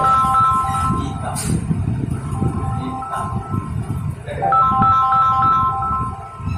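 A phone rings with a repeating electronic ringtone melody, steady and fairly loud, over a constant low rumble of background noise throughout.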